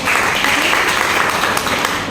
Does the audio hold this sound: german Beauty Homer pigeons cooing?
no